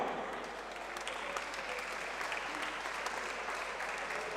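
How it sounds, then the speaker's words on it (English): Crowd applause at a live mixed martial arts event after a middleweight title fight, steady dense clapping filling the venue for several seconds without letup. "round of applause for both fighters this evening"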